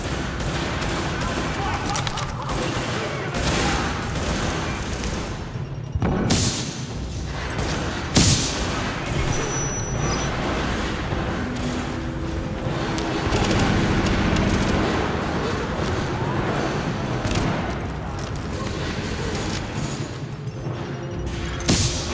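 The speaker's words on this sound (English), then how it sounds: "Keep firing at them!" Gunfire in the shooter game Tom Clancy's The Division, sustained volleys of automatic fire with heavy booms and impacts throughout a firefight, loud and dense, with voices and game dialogue mixed in.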